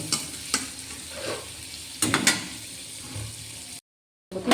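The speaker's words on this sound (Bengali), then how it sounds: "রসুন কুচি দিয়েছি এটা আমি একটু ভেজে নেবে হালকা করে" Chopped garlic frying lightly in butter in a home kitchen pan, with a steady close sizzle broken by several sharp spoon-scraping stirs and a brief silent gap near the end.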